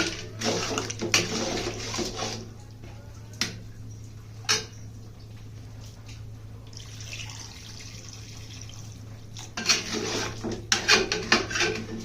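Water is poured into a pan of frying chicken curry with potatoes in two splashing bursts at the start and end, with a low steady stove hum and a few light clinks between.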